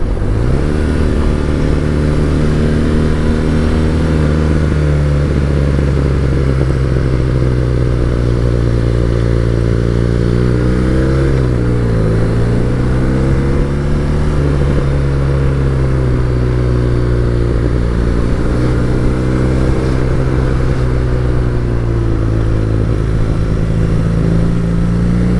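Steady motorcycle engine drone with constant road and tyre rush while riding solo on roads in Wales, loud and continuous with gentle pitch swells as the bike slows and picks up again, no voices.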